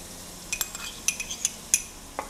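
Grated ginger and garlic are stirred in a pan, faint sizzling beneath several sharp metallic clinks and scrapes of a utensil against the pan.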